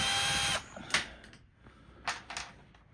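A power drill whirs steadily, then stops as screws come out of a car seat in an Acura TL interior, followed by a few sharp clicks and rattles of the tool and parts.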